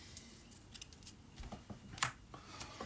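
Contract cards from the SpaceCorp board game being shuffled by hand, giving quiet scattered snaps and soft riffling brushes close by, with no talking.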